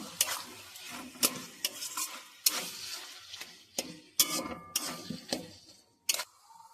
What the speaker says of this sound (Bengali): ম্যাশ করার আলুটা দিয়েও আমি খুন্তির সাহায্যে ভালো করে মাংসর সাথে কষিয়ে নেব